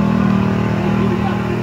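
A GAZ-69 off-road vehicle fitted with a Mercedes engine, running on a night off-road course, gives a loud, steady engine drone that stays close and continuous throughout.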